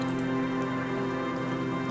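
Water dripping steadily from a tarp stretched over a makeshift boardwalk shelter in the game Disco Elysium, a soft continuous patter over a low steady hum, with no voices.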